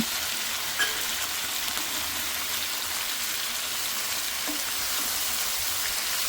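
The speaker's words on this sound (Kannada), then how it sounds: "ಇದನ್ನು ಹಾಕಿ ಒಂದು ಟೆನ್ ಮಿನಿಟ್ಸ್ ಫ್ರೈ ಮಾಡ್ಕೋಬೇಕಾಗತ್ತೆ" A spicy capsicum chilli mixture fries in a pan with a steady, dense sizzle that stays loud and even throughout, broken only by a faint clink near the start.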